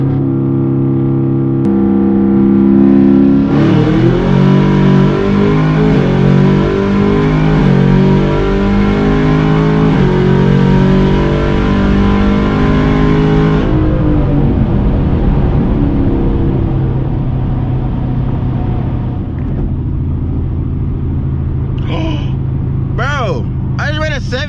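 Modded Chevrolet Camaro ZL1 accelerating hard, a loud close engine roar climbing through rising harmonics for about ten seconds before easing off, with someone talking over the tail end.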